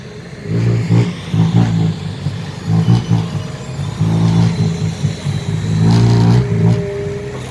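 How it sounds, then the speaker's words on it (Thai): A loud, close tractor diesel engine chugs and revs in repeated surges, its low rumble rising and falling continuously. "มีรถไถมาเก็บงานข้างบนสบายเลย"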